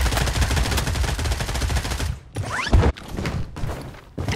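Rapid machine-gun fire from the BloodStrike video game rattles loudly for about two seconds, then breaks into shorter separate bursts with brief gaps between them.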